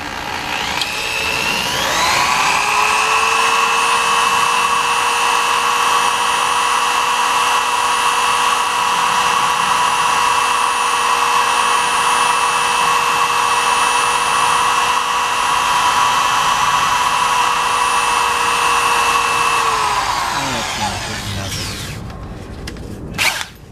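A power drill runs at steady high speed for about twenty seconds, boring out a broken bolt on a Jeep ZJ 5.9, spinning up at the start and winding down near the end, loud and close with no talk.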